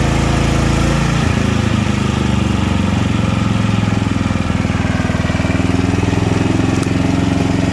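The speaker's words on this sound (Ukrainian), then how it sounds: "Якщо я додаю навантаження, він збільшує оберти." A WEIMA WM6000EI 6 kW inverter generator runs steadily, its engine droning loud and close with an even buzzing rumble that continues unbroken throughout.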